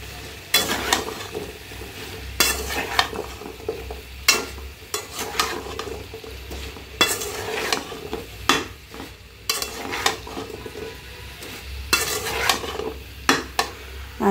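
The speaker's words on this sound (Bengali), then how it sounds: "এখন লতিটা দিয়ে আবার একটু কষিয়ে নিব" Poa fish with potato and taro stolons are stir-fried in a pan, with a low sizzle running underneath while a utensil scrapes and clatters against the metal in irregular bursts, close and moderately loud.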